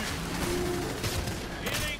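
Rapid, overlapping gunfire as several players shoot at a monster in the game Evolve, a dense continuous barrage filling the short moment with a voice faintly underneath.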